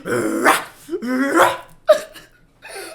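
A person imitates a barking, growling dog with their voice, acting out a puppy lunging at a door: a few loud, rough bark-like bursts close to the mic, with breathy pauses between them.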